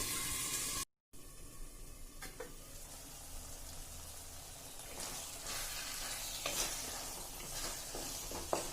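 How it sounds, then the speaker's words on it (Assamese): Jackfruit seeds and colocasia fry in a pan while a spatula stirs them now and then, producing soft scrapes and clinks over a continuous low sizzle, close up and without voices. "মাজে মাজে এনেকৈ লৰাই থাকিব"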